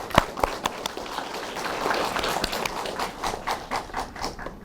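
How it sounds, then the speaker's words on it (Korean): Applause from a seminar audience at an academic colloquium in Korea, a dense patter of hand claps that swells steadily, with a few sharper close claps near the start, continuing for several seconds. "큰 박수로 모시겠습니다."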